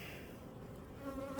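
Swarm of honeybees from a five-frame nuc buzzing after being moved into eight-frame boxes, a dense continuous hum close by with individual bees whining past near the end.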